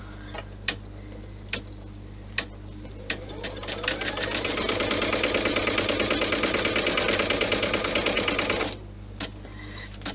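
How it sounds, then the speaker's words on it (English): Embroidery sewing machine stitching out placement guides for a key clutch, a rapid mechanical whirring chatter that runs steadily for several seconds, preceded and followed by isolated sharp clicks and ticks, close and clear with no speech. "So it's stitching out the placement guides right now while I cut this out."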